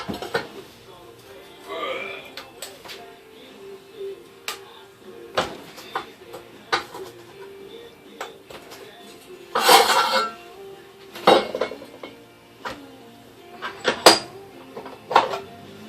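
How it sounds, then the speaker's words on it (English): Steel rebar clamped in a vise and bent to ninety degrees with a pipe for leverage in a shed, giving scattered metallic clanks, scrapes and creaks with a few sharper knocks near the end, close by and without talk. "Just putting it in the vise and bending it with a pipe."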